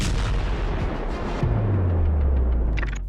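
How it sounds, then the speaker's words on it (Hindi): Explosions in war footage from the US–Iran conflict come as a dense, continuous roar of blasts and rumbling booms, with a deep low thud partway through, loud and close with no speech. "धमाके, धुआं, धूल और विध्वंस।"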